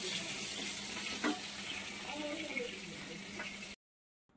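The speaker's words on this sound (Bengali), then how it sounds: "এই মাছ দিয়ে কচুর গাঠি আর আলু ভাজা" Fish with taro stems and potatoes fry in a pan, giving a steady sizzle with occasional stirring scrapes before cutting off abruptly.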